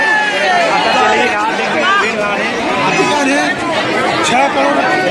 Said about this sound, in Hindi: बढ़िया भीड़ है